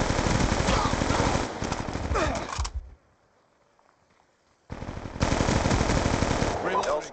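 Automatic gunfire in Call of Duty: Black Ops 2, loud sustained bursts that cut out for about two seconds of near silence and then resume just as heavily.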